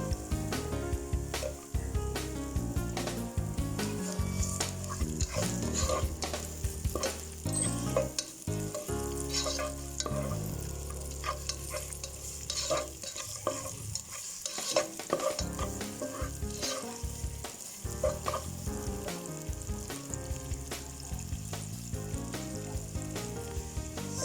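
Onion and golden garlic sizzle steadily in a hot pan, with repeated stirring scrapes and clatters running throughout at close range, with no talking.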